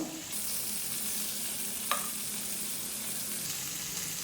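Chicken frying in a pan over a medium-low flame, a steady close sizzle with a brief scrape of stirring partway through.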